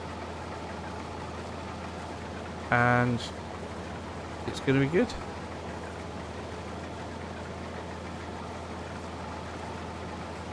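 A Massey Ferguson 390T tractor idles in Farming Simulator 22 with a steady low engine drone throughout, while someone speaks briefly twice over it.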